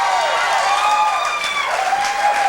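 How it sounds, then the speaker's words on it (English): A television studio audience on a late-night talk show claps its hands in a loose, unrhythmic burst, loud and steady throughout, with whistle-like tones running over the clapping. "And you notice how they clapped their hands?"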